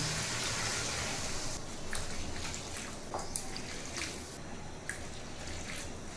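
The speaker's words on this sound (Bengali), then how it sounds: "এবার আমি এর ভিতরে পানি দিয়ে দিব।" Lukewarm water pours into a pot of braised beef curry, a dense continuous gushing and bubbling wash of liquid with a few faint drips and clinks, no talking.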